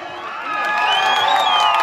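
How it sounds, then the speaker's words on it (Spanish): A live crowd at a Paraguayan band's concert cheers and shouts loudly, a swelling roar of whoops and high voices that builds and holds, with little clapping audible. "el aplauso por favor"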